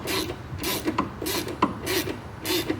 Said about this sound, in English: The first thing you do is unscrew the adjuster all the way till it stops.